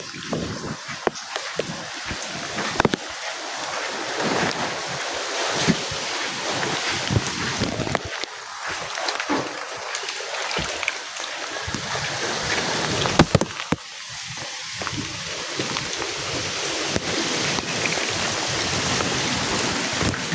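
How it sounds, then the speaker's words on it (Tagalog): Strong wind roars and buffets the microphone continuously, with gusty rumbling bursts throughout and no speech. "Malakas ng hangin."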